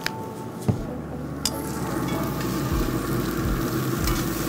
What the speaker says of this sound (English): give it a little stir, and we want these to caramelize and break down